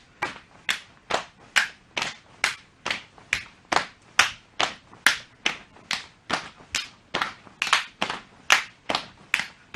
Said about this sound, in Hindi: पैरों को एक साथ खोलना है और साथ में सिर के ऊपर ताली बजानी है।